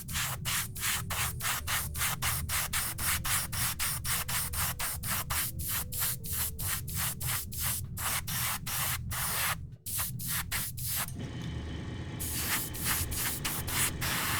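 An airbrush sprays matte Vallejo Express paint in a rapid series of short, even hissing bursts, close and loud, then one longer continuous spray near the end, with no voices.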